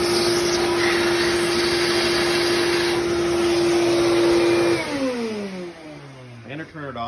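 A shop vacuum hose draws air out of a drain pipe with a loud, steady roaring whine; partway through, the pitch drops and wavers as the airflow changes.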